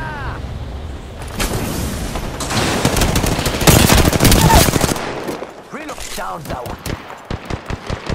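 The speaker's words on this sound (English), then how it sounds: "They're shooting at me." Video game gunfire: bursts of rapid automatic shots build into a dense, loud volley, then trail off into distinct, evenly spaced single shots, while a voice speaks briefly over the firing.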